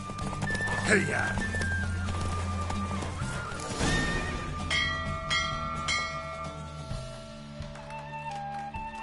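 In Witcher 3, horse hooves pound at a gallop beneath layered game music and talking, with rumbling motion noise that swells midway before easing into calmer tones.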